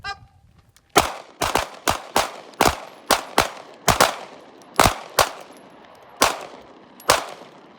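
Pistol shots from a Langdon PX4 in a 3-2-1 shooting drill: about a dozen loud, sharp reports fired in quick clusters of two and three with brief pauses between, close and outdoors.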